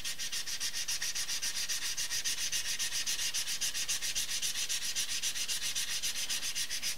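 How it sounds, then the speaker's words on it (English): Light, rapid back-and-forth sanding strokes on the inner faces of scissor blades, rhythmic and even, with a hissy scratch on each pass. "Just going to give them a little bit of very light sanding."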